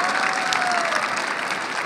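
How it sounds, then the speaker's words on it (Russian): An audience applauds steadily at a Russian awards show for freediving and underwater achievements of 2023, a dense, close, even wash of clapping throughout. "Давайте поддержим аплодисментами."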